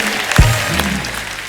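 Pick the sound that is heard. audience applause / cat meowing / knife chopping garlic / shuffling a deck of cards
audience applause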